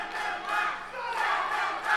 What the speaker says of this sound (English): Crowd is chanting, "Send them back."